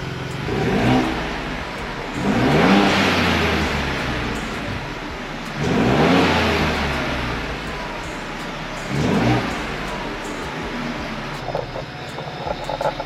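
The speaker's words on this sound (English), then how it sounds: "I want to get you a little bit of a taste of the exhaust from out back" A car engine revved from idle several times, each rev swelling into a loud exhaust roar and settling back, heard close from the rear of the car.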